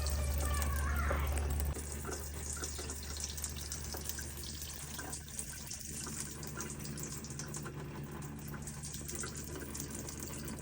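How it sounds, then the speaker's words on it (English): Water runs steadily from a Waterdrop KJ-600 reverse osmosis system during its flush, a continuous close hiss of flowing water that is a little louder at the very start and then holds even for the rest. "now we are going to flush for 15 minutes"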